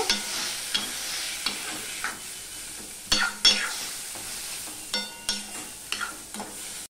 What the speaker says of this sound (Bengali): দিয়ে সম্পূর্ণটা আমি মিশিয়ে নেব